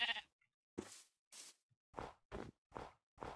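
Sheep in the Minecraft video game bleating in a series of short, distinct calls, about six bleats in quick irregular succession, close and clear with quiet gaps between.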